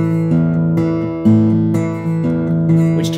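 Fingerstyle guitar plays an unmuted bass-string pattern on strings five, four, six and four, the notes ringing and overlapping in a steady pulse, close and clear with no talking.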